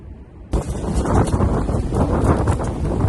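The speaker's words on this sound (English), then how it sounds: "Getting windy now." Strong wind roars and buffets the microphone in a loud, continuous rush after a brief quieter moment, with no voices, on a volcanic caldera cone.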